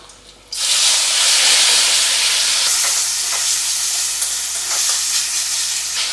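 Steamed taro leaves dropped into hot oil with fried black cumin set off a sudden loud, broad sizzle that holds steady and close for several seconds, with faint scraping of a spatula through it.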